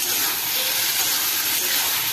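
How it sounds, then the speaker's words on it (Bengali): Loud, continuous high-pitched hiss of steam venting from a pressure cooker cooking vegetable moong dal khichdi, steady and close, with no talking. "এবারে এটা এটা প্রেশার কুকারে সিদ্ধ করে নেবো"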